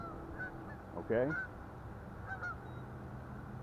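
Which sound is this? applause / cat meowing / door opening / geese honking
geese honking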